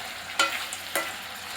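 Tomatoes softening in a pan for a Tamil thakkali kulambu, a soft sizzle broken by two brief scraping stirs, close and quiet with no talking.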